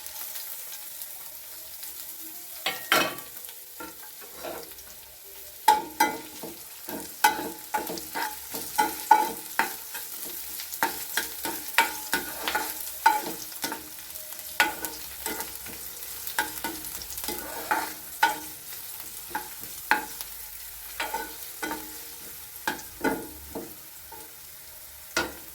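Chopped onions and green chillies fry with ginger in a pan for a Kerala jackfruit seed stir-fry, with a soft sizzle under frequent sharp stirring scrapes and clanks that grow busier partway through, with no talking.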